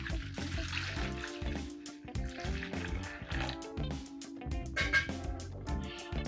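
Warm water pours for chapati dough, a steady trickling and gurgling stream that runs close and continuous throughout.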